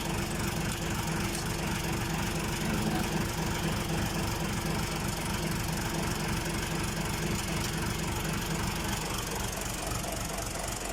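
Isuzu 6HK1 diesel engine idling with a steady, dense knocking rumble, close and loud throughout, no voices.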